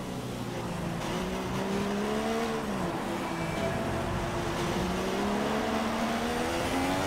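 Racing car engines in the F1 2016 game on the China circuit, a continuous loud high-pitched whine that rises and falls as the car shifts gears and slipstreams, with no voices.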